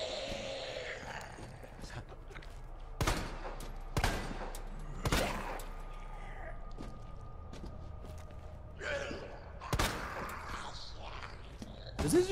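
Gunfire in the video game Resident Evil 2 Remake: several loud, sharp shots spaced about a second apart, heard among footsteps and mechanical clicks, with a voice talking faintly in places.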